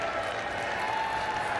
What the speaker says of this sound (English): The crowd's giving them some cheers